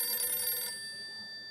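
A telephone rings early in the morning in a Gokuldham housing society home, giving a bright electronic trill that stops abruptly partway through and leaves a faint high tone hanging.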